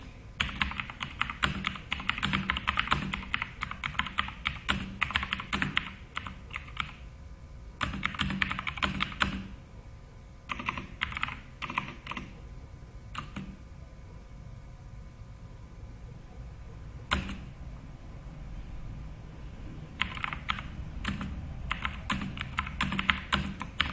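Typing on a computer keyboard in bursts of quick, crisp keystrokes separated by short pauses, close and clear over a faint steady hiss.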